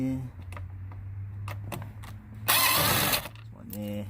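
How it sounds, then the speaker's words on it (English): A screw being backed out of the dashboard of a 2005 Nissan Altima SE-R, heard as a short burst of ratcheting and grinding from a nearby power driver, with voices and handling noise around it. "Let's take off this screw"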